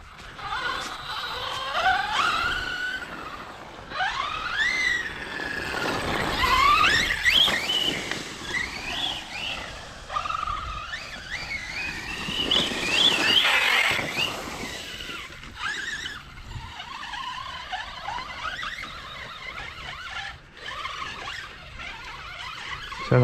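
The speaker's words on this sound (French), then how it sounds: "Tu vois les diffs comme ils patinent." Kagama RC car with slipping differentials, a close, loud whining squeal that rises and falls in pitch as the motor revs, with grinding mechanical noise underneath.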